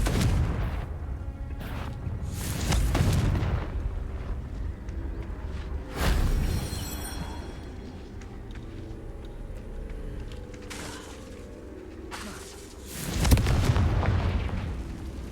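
Repeated Confringo fire-spell explosions in Hogwarts Legacy, several loud booming bursts spaced across the stretch, each with a rumbling tail, over steady game background noise.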